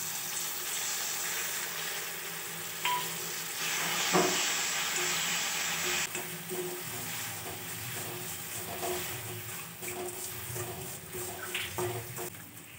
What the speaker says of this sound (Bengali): চিনিটা গলতে শুরু করেছে